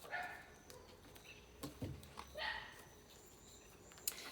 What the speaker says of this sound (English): the dog is making some noise